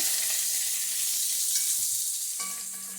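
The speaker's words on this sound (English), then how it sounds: "So you want to fry your bacon first." Bacon fries in a pot on the stove, starting as a short burst of sizzle close by, with a light scrape near the end.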